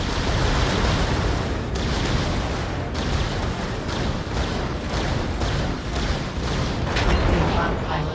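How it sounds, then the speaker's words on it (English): A large missile fires in the Vox Machinae VR mech combat game, a sustained loud roaring, rumbling blast with a few sharp cracks layered in, steady and dense throughout, with no talk over it. "First, we will start off with the large missile."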